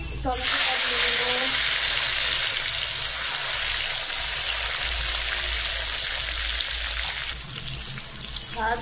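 Tomato is dropped into hot oil for a Bengali fish curry and crackles into a loud, steady sizzle close by, easing slightly toward the end.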